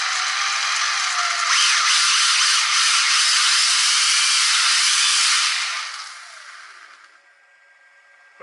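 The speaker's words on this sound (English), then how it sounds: "I'm going to just apply a little bit of power just through these wheels" The motor of a WLToys A959 1/18 RC car spins its metal upgrade wheels off the ground with a loud, steady high-pitched whine that holds for several seconds, then winds down and fades to near silence.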